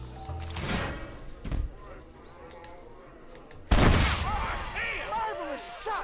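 Gunshots in the Western video game Red Dead Redemption: a sharp shot early, another thud, then a loud blast followed by ringing echoes and debris, with voices speaking among the shots.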